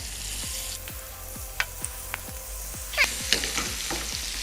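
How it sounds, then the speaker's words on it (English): Prawns fry in a pan with a steady sizzle and crackle, a few brighter pops and stirring scrapes rising near the end, close and with no talking. "Once you take out the calamari, go ahead and cook your prawns."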